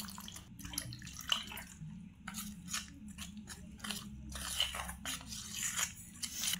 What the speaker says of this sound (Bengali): এবার জল দিয়ে আমি একটা মিডিয়াম ঘনত্বের একটা ব্যাটার করে নেব।